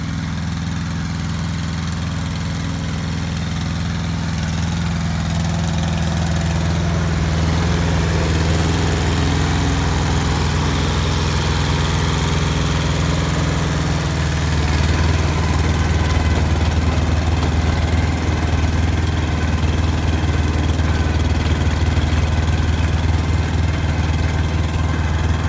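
Small Hinomoto tractor engine laboring to drive a big tiller through old dead grass, a loud continuous droning rumble with steady low throb, close and unbroken throughout.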